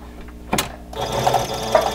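A sewing machine stitching a fabric face mask with a pocket, starting with a brief mechanical clunk and then running in a steady, close whirring hum.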